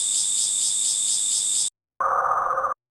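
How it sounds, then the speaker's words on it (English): A cricket sample played on a synthesizer chirps in a rapid, steady pulsing buzz at high pitch, then stops. After a short gap it returns pitched much lower as a brief, throbbing burst. "it's literally a sample of crickets."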